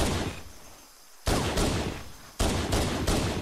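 Halo CE gunfire comes in loud, close shots, a burst at the start, then after a brief lull several sharp reports in quick succession, each with a decaying tail.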